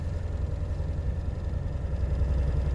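A 1985 AMC Jeep Cherokee XJ Wagoneer Limited, four-wheel drive, idles with a low steady rumble and even pulsing throb, close by and fairly quiet, with no voices.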